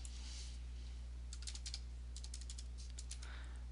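A computer keyboard is typed in two short bursts of rapid clicky keystrokes while entering a username, close and moderately quiet over a steady low electrical hum.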